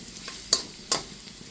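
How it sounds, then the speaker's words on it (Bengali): Onions and potatoes fry in a pan and are stirred, two sharp scraping strokes of the spatula standing out over a faint background sizzle. "দেখুন আমার পেঁয়াজটা কিন্তু ভাজা হয়ে গেছে।"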